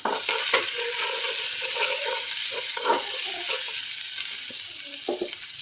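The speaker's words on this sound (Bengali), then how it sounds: "আমি আজকে বটবটি ভাজি করব" Chopped botboti beans frying with turmeric and garlic paste in hot oil in a pan: a loud continuous sizzle broken by irregular stirring scrapes, close by, with no talking.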